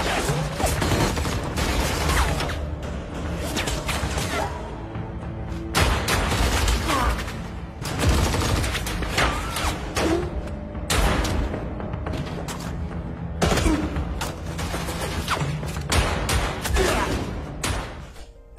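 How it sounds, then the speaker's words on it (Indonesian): Gunfire rings out in a shootout scene from the Korean film Yaksha. Dense, loud volleys of shots and heavy impacts come in repeated bursts across the whole stretch, mixed with a steady cinematic score underneath. "Kemudian terjadilah adegan baku tembak."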